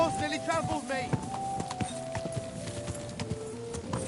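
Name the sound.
horse hooves trotting, from video game Kingdom Come Deliverance 2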